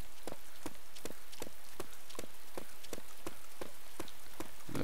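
Steady rain falls in the survival video game DayZ with a constant hiss. Faint rhythmic thumps, like footsteps, recur about every half second underneath it.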